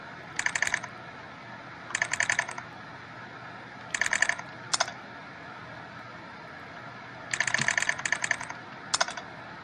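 Computer keyboard typing in the Progressbar95 video game comes in short clustered bursts of rapid clicks, roughly six separate flurries spaced by pauses.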